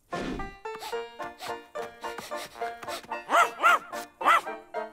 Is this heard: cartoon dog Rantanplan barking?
yes